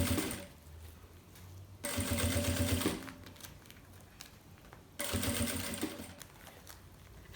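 A sewing machine stitches around a piece of a mirrored makeup case in two loud bursts of rapid mechanical whirring, each about a second long, separated by quieter pauses with faint handling sounds, close up with no talk.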